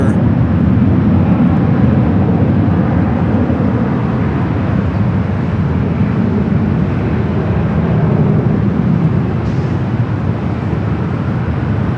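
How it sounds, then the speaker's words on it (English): Air France Boeing 777 departing from the north side at LAX, a loud continuous jet roar that holds steady throughout without talk. "Air France 777 heading up for a north side departure"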